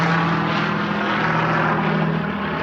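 An Arrma Outcast RC car screams past in a fast flyby, a steady high-pitched electric motor whine that stays loud and close for the whole moment.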